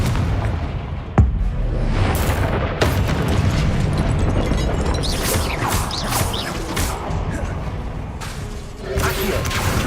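Confringo fire spells exploding during combat in Hogwarts Legacy, with loud booming blasts and crashing impacts layered over dense game noise, one sharp bang near the start followed by repeated heavy bursts.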